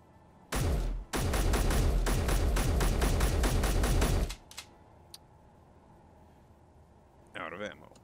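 A turret in Space Engineers fires a rapid, loud burst of evenly spaced shots for about four seconds after a short opening pop, then falls quiet except for a few clicks and a brief electronic chirp.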